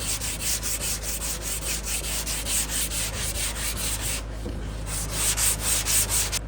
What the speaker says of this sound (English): So the idea is you want to sand this out.